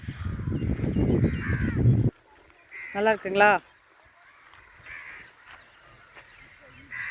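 A person speaks briefly, then two harsh crow caws ring out close by in a village, followed by quieter outdoor background.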